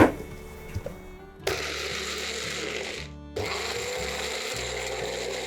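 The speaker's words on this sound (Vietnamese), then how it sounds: "Bây giờ mình sẽ đem đi xay nha." A blender grinding chili peppers whirs in bursts, stopping briefly between runs, with mechanical rattling as the blades chop.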